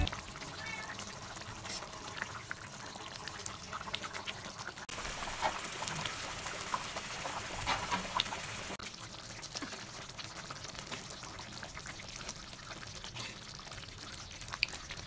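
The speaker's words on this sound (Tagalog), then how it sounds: "pag kumulo na, hayaan lang siyang ganyan para mag-reduce yung liquid" Pork binagoongan sauce boils and reduces in a pan, a continuous, fairly quiet bubbling and spattering that holds steady for about fifteen seconds with no speech.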